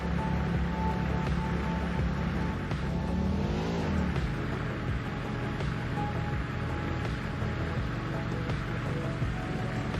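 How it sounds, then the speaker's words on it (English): A vehicle in the factory-building game Satisfactory drives along with a steady, droning engine hum and rumbling wheels, holding a continuous level with a brief shift in pitch partway through. "They definitely need a faster car"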